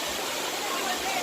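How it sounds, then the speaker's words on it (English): Dunn's River waterfall, a steady broadband rush of falling water, constant and fairly loud with no breaks over the short stretch. "Look at Dunn River, nice waterfall."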